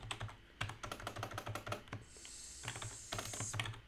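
Quick keystrokes on a computer keyboard while writing JavaScript code, close and clear, coming in fast irregular bursts with a brief pause in the middle; no voice.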